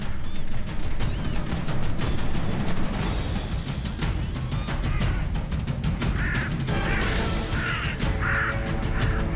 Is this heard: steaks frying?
no